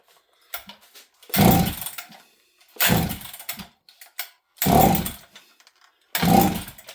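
A Husqvarna 266XP chainsaw with no choke on is pull-started four times in a row. Each pull gives a short rattling rasp with silence between, and the engine never fires.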